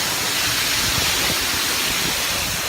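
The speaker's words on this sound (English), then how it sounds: "There's the waterfall." Roaring rush of a waterfall on a mountain hiking trail, a loud, steady broadband wash of falling water filling the whole moment without a break.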